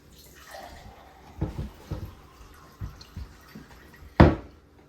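Water poured from a container into a glass for a home experiment, intermittent splashes and trickles with drips, ending in one louder splash, close and otherwise quiet.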